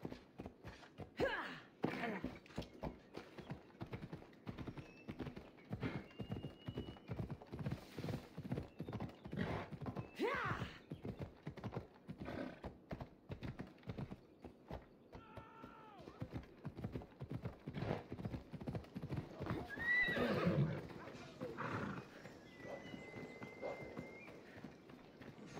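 Phobos, a horse in Assassin's Creed Odyssey, gallops with steady, rapid hoof clip-clops that run throughout, punctuated by occasional whinnies and snorts.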